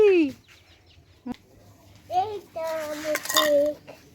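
Chickens cluck and squawk a few times, close by, mixed with clinking dishes and a voice in the background.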